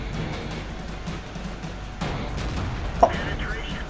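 An M26 Pershing tank fires its cannon in World of Tanks, a single sharp boom near the end that rises over low engine rumble and faint background noise.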